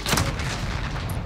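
An explosive charge detonates in Call of Duty: Modern Warfare, a loud, deep boom with a rumbling tail that fills the whole moment, with no talk over it.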